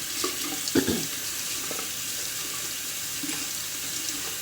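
Water runs softly from a tap as a makeup sponge is wetted under it, with a few brief splashy bursts over a faint steady hiss.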